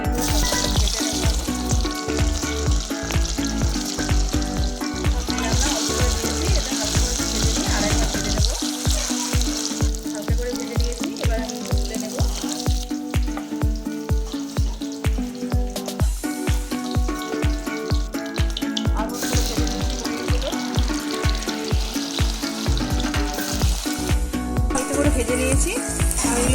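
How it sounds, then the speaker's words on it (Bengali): Paneer cubes fry in hot oil and ghee in a wok, giving a steady, loud sizzle that runs throughout under rhythmic background music. "এবার পনিরগুলো সব ভেজে নেব।"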